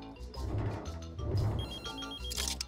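A cartoon cell phone rings with a repeating electronic trill, moderately loud and rhythmic, layered under background music and sound effects.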